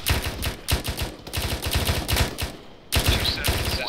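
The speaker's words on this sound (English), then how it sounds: "We're getting shot." Rapid bursts of gunfire during a military field training exercise, loud and close, crackling in quick strings of shots separated by brief pauses, with no talking over them.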